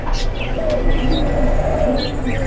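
A pair of grizzle pigeons cooing softly, low murmuring coos close by amid a busy background of chirping birds at a pigeon market, with faint voices around.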